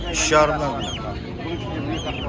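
A goose at a Kyzylorda poultry and livestock market gives a few short nasal honks over busy background noise, with people's voices around.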